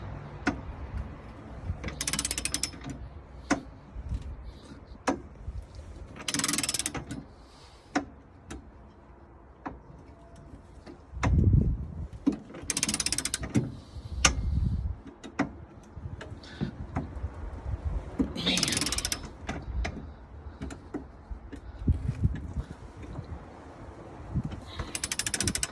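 Hand ratchet cranked during an Anderson Ultimate trailer hitch install, repeated bursts of close mechanical clicking separated by quieter pauses, with a few heavier clunks midway.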